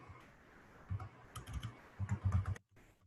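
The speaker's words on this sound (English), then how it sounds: "So now we will type this query." Fingers type a MySQL query on a computer keyboard in quiet, irregular clusters of close key clicks. The keystrokes come faster toward the end, then stop abruptly.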